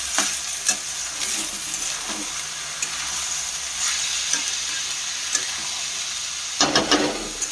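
Rice being stirred and mixed in a pot, a steady sizzling fry with scraping strokes of the spoon and a louder clatter of stirring near the end, no talking.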